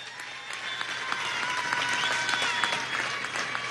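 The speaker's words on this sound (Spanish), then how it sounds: "Vamos a darle un aplauso a Portuguesa." Crowd applause at a presidential housing handover broadcast in Venezuela, a sustained, dense roll of clapping that swells slightly and holds steady throughout.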